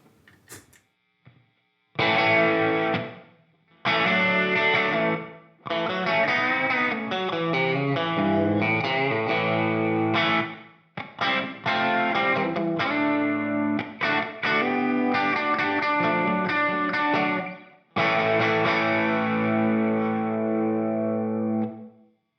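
Distorted electric guitar through a Valhalla Supermassive small reverb plays chords and short phrases, its notes trailing off with a small, short reverb tail between bursts.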